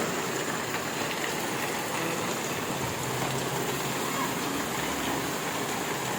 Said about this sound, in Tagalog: Saka ngayon naman, ngayong hapon, malakas yung ulan.